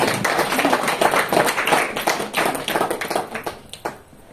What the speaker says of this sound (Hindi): तालियां बजाइए उनके लिए